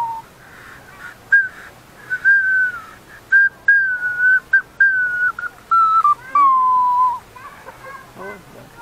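A simple four-hole whistle blown with all holes open in a run of short notes at a bright, high pitch, sliding slightly lower toward the end.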